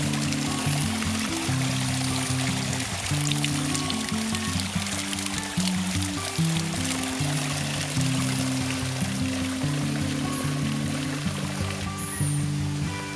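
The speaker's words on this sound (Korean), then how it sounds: "산 아래에요, 물도 졸졸졸 흐르고 자연이 보기 굉장히 좋습니다." A mountain stream below a hillside near a Hmong village in the Chiang Mai highlands trickles and burbles continuously at close range, a steady watery wash with no talking.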